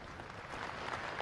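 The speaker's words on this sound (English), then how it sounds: "Let's give them all a round of applause" Round of applause from the crowd at a township business awards event honoring the board of trustees, a soft, distant, even wash of clapping that swells slightly.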